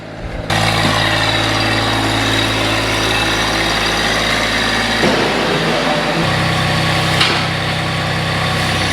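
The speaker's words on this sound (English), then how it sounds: "you guys are about to see that new tractor in action." A new farm tractor's engine idles loudly and steadily nearby, a droning hum that shifts pitch partway through as the engine note changes, with no talk over it.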